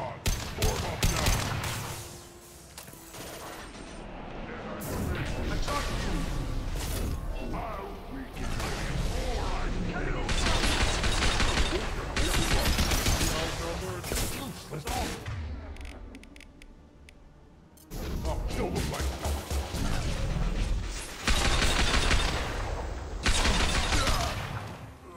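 A squad firefight in the video game Mass Effect, with sustained loud bursts of automatic gunfire and explosions rolling on and off, a brief lull midway, then renewed heavy shooting.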